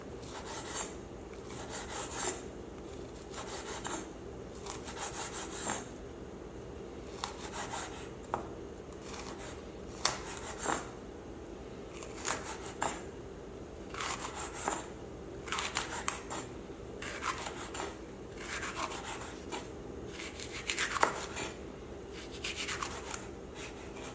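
A knife slices baby bok choy into thin strips on a cutting board, giving quiet, irregular rasping cuts and soft taps at close range over a low background hum, with no talking.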